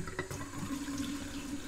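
Cold tap water pours into a jar to rinse broccoli sprouts, making a brief, continuous splashing rush at moderate volume with no talk.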